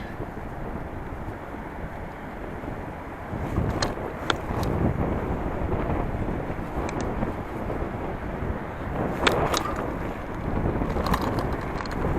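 Gusty wind buffets the microphone with a low, rumbling roar that swells and eases, joined by a few faint higher whines.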